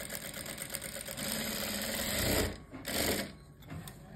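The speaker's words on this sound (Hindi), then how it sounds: "ये देखो बिल्कुल बुकरम के साथ साथ इसको हमने स्टिच करना है" A sewing machine stitches along buckram for a blouse neck, running in a fast, steady mechanical whir close by, briefly slowing and pausing near the end.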